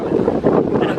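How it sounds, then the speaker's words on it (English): Gusty wind at the Alton Towers theme park buffets the microphone in a loud low rumble for a single brief second. "Oh, it's bloody windy though."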